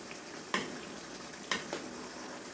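Mini cucumbers and tuna being sautéed and stirred in a pan, a soft steady frying hiss broken by a few sharp scrapes of the spoon against the pan.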